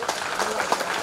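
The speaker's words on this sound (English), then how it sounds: "So audience, please give a huge round of clap for our judges." Brief burst of audience applause at a debate event on stamina, steady broadband clapping filling the moment with some crowd noise beneath.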